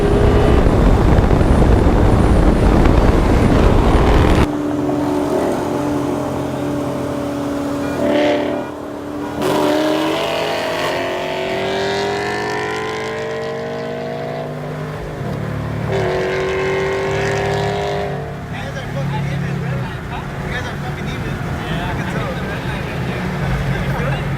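A 2013 Mustang 5.0 on an E50 ethanol blend and a 2014 Camaro on an E60 blend race side by side, with loud engines rising in pitch through several gear changes and a steady roar, a voice audible over them in places.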